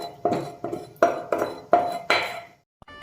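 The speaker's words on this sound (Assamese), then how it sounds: "ভালকৈ কেৰাহীটো ধুই ল'ম।" A metal wok (kerahi) being washed after frying potatoes for a pork dry fry, giving six rhythmic scraping, clattering strokes close by, then a pause and a couple of small knocks.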